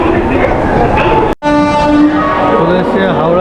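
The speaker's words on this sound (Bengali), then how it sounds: "হাওড়া স্টেশন।" Trains at Howrah railway station, with loud rumbling and a sustained horn-like tone after a brief cut, people talking under the busy platform noise.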